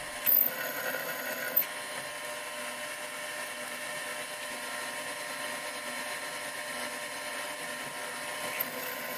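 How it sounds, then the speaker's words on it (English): A twist drill bores into metal on a Proxxon PD 250 e lathe, a steady high motor whine with faint cutting noise and a couple of brief knocks, no voices. "The twist drill starts very smoothly at the spotted position"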